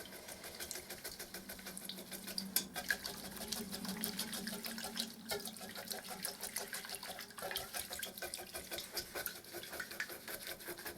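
An oil paint brush is worked into white spirit, making quiet, repeated wet swishing and sloshing strokes with a soft, continuous liquid texture.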